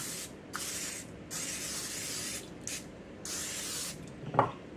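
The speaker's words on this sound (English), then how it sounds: "And I'm spraying this with butter spray." Several short bursts of butter spray hiss in a steady rhythm, close and fairly loud, followed by a soft clunk.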